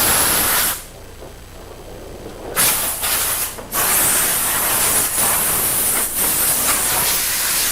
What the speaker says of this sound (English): Since we're spraying, let's show the Tornador gun.